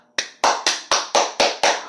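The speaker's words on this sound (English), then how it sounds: "Let's give a round of applause" Seven sharp claps in an even, quick rhythm, close and loud, with no voices.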